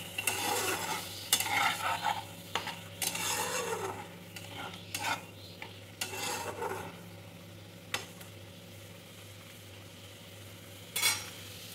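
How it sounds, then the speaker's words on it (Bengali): Vegetables cooking without oil are stirred repeatedly in a pan, a spatula scraping and rasping in bursts over a faint dry sizzle, with no talking. "যেহেতু আমাদের রান্নাটা তেল ছাড়া হচ্ছে তো আমরা একটু বারবার নাড়াচাড়া করে নেব"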